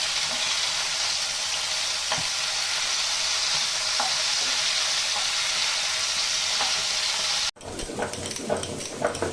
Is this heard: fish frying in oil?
yes